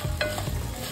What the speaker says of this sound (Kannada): ಈಗ ಉಳ್ಳಾಗಡ್ಡಿ ಬಟಾಣಿ ಎಲ್ಲ ಚಲೋ ಫ್ರೈ ಆಗ್ಯಾವ.